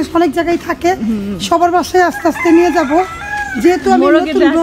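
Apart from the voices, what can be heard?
rooster crowing by the road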